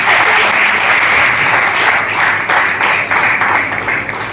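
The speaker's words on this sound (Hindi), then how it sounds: "तो मैं चाहता हूँ कि ये दोनों काउंसिलर को उत्सववर्धन के लिए एक जोरदार तालियां हो जाए" Loud, dense audience applause at a community awareness program on drug addiction, sanitation and TB held by a councillor, sustained for several seconds with a slight ebb toward the end.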